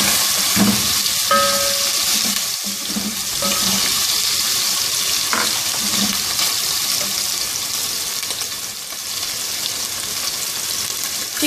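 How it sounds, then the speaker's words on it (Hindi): Chicken with green cardamom frying in oil, a close, continuous sizzle with intermittent scraping and clinks of a spoon against the pan, no voices. "इसको थोड़ा सा फ्राई कर लें।"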